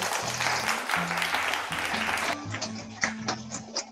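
An audience at a wedding-themed family game show gives a round of clapping, while voices and a low hum carry on underneath.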